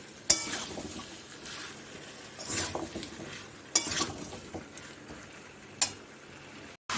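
Pumpkin pieces fry in spiced oil while being stirred, with a gentle sizzle under intermittent utensil scrapes and a few sharp clinks against the pan, and no voices.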